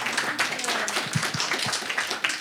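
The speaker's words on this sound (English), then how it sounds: "Give me a clap if you've ever flown with Ryanair." A comedy-show audience in Budapest gives a short, scattered round of clapping, a few claps at a time rather than full applause, heard at a moderate distance with some room murmur.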